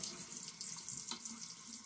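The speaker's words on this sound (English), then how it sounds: "I am going to put a little bit of water on my face" Water runs steadily from a bathroom sink tap before a face wash, a continuous soft hissing splash at low volume with no talk.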